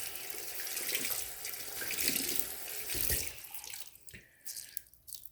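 Water runs from a tap onto a makeup sponge with a steady, close splash. It cuts off after about four seconds, leaving a few drips and handling sounds.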